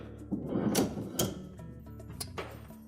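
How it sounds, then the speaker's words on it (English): Whirlpool refrigerator drawer extensions pulled out along their rails, giving a series of sliding clicks and clunks at close range, with quieter rattles following. "pull the drawer extensions all the way out."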